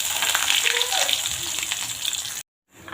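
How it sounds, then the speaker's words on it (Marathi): A teaspoon of mustard seeds and cumin hitting hot oil gives a dense, steady hiss and crackle. It runs loud and close for over two seconds, cuts off abruptly, then starts to swell again. "तेल छान गरम झाले आहे। आपण यामध्ये 1 चम्मच मोहरी आणि जिरे घालून घेणार आहोत।"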